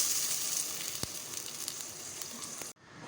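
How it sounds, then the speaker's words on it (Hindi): Paste made from three medium tomatoes sizzles in a hot pan for a red kidney bean curry, a steady close hiss with a single sharp tap partway through before the sound abruptly stops. "3 मीडियम साइज़ के हमने टमाटर लिए हैं, इसका अच्छा से हमने पेस्ट बना लिया था, ये शामिल करेंगे। अच्छे से मिक्स करेंगे।"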